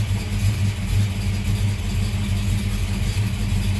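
A 1970 Buick Skylark with a 284-88H cam idling around 700 rpm, a steady, loud, close low rumble with a slightly lumpy, pulsing rhythm throughout, no talking.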